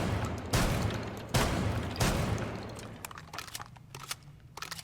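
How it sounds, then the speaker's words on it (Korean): A video-game weapon with the Thermite elite skin fires three loud, evenly spaced booming shots, then a series of quicker metallic clicks and clacks as the reload plays. "그럼 한번 써보고 한번 장전 모션 한번 보도록 하겠습니다"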